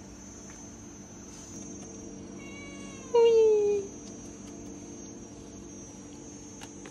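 A cat in Thailand gives a single loud, drawn-out meow with falling pitch over a steady insect-like background hum, and a person says a brief word nearby.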